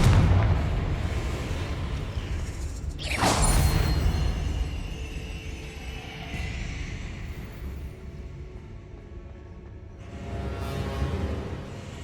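A Confringo blasting spell goes off in a video game, a loud booming explosion with a sharp crack and rumbling tail, followed later by a second, softer burst.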